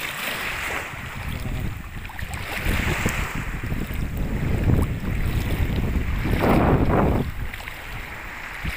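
Strong wind blowing by the sea, gusting and rumbling across the microphone with surf noise underneath, rising and falling steadily throughout with no voices.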